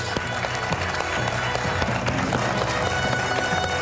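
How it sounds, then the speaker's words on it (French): Studio audience applause on a French TV quiz show, steady dense clapping filling the whole stretch, loud and close with no pauses. "il applaudit"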